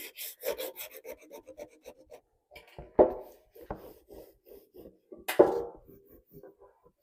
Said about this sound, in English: And then just kind of scuff sand it.